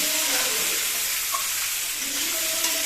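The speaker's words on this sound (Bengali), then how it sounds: "এবার একটু আলুটা ভালো করে ভেজে নেব" Potatoes fry in a pan with salt and turmeric, giving a close, steady, continuous sizzle and hiss with no breaks or voices.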